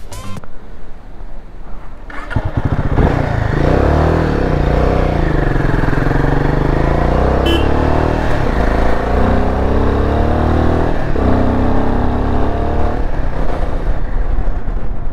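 A Royal Enfield Himalayan 450 motorcycle ridden up a ghat road on a Pune to Goa trip. A loud, close engine drone settles in after a quieter start and holds steady, with wind noise mixed in.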